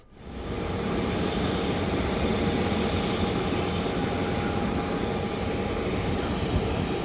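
A passenger jet on an inaugural flight at Navi Mumbai Airport, with its engines rising into a loud, steady roar that fills the whole stretch without letup.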